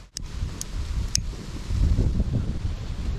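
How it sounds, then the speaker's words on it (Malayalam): Strong wind gusts sweep across a rain-soaked campsite with a tent, a continuous blustery rush with buffeting against the microphone and a few sharp clicks near the start. "കാരണം എന്താ വെച്ചാൽ ഭയങ്കര കാറ്റടിക്കുന്നത്"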